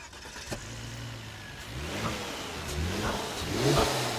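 A 2011 Volvo S60's 3-litre turbocharged engine accelerating, a steady mid-pitched drone that rises smoothly in pitch and loudness over a few seconds, heard up close with no talking.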